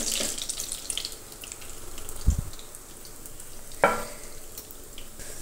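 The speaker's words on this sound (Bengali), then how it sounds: "ফিশ ফিঙ্গারগুলো কতটা মুচমুচে করে সুন্দর করে ভেজে নিয়েছি" Fish fingers deep-fry in oil, a steady hiss of frying with a couple of brief louder clunks as pieces are moved, and no voices.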